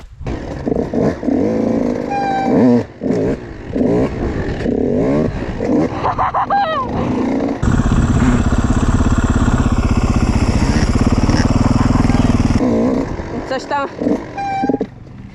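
A KTM 85 SX motocross bike ridden in a slow wheelie, its engine revving unevenly at first, then holding a loud, steady drone for several seconds before dropping back to sputtering, close by.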